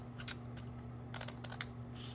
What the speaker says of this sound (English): the next thing I'm going to do is I'm gonna cut